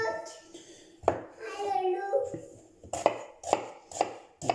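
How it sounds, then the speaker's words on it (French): A knife finely chops onions on a cutting board with a few sharp, evenly spaced strikes, while a voice chatters nearby. "on va ciseler les oignons"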